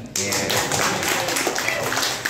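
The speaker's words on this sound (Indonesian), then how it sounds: "Kasih tepuk buat Fajar" An audience at a religious talk in a pesantren claps together in sustained, dense applause that starts abruptly and continues loud and even throughout, with voices mixed in.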